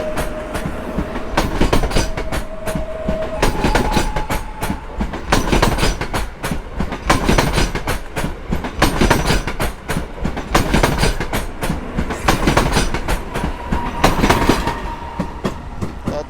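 An EN71 electric multiple unit rolls over a railway switch at Warszawa Wschodnia station, with steady loud rumbling and repeated clickety-clack wheel impacts throughout, plus occasional faint tonal squeals, close by and with no talk.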